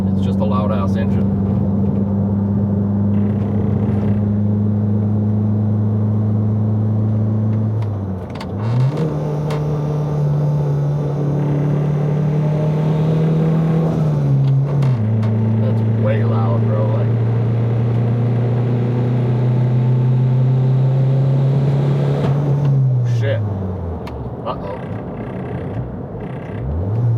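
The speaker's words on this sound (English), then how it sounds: "It's not knocking, it's just a loud ass engine." Loud engine drone of a Chevy Sonic RS with a modified cam and heavier valve springs, running during break-in road driving, holding steady tones that dip and shift with gear changes, close and continuous.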